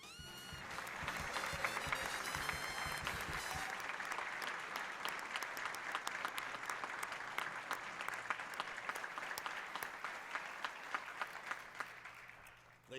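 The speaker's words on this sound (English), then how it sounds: "please join me in another round of applause" Sustained applause from a large crowd at a university alumni awards ceremony, steady and dense throughout, with a few brief musical or vocal sounds near the start.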